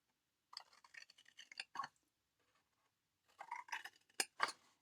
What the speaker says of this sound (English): We're going to just cut up to that first score line.